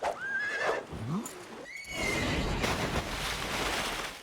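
An animated warhorse whinnies loudly near the start with rising and falling tones, then hoof clatter and a rushing, surf-like wash follow.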